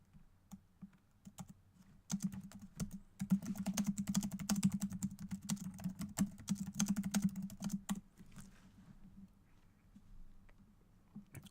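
Rapid typing on a computer keyboard, a dense run of close clicking keystrokes that starts after a couple of quiet seconds, continues steadily, then tapers off into sparse taps near the end.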